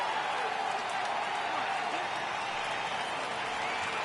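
A baseball stadium crowd in a video game roars in a dense, sustained wash of cheering that holds steady at a loud level throughout.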